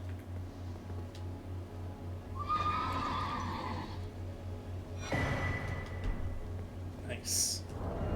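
A horse in a video game neighs in one loud, drawn-out whinny, followed by softer snorts and clip-clop steps, with a steady low hum running underneath throughout.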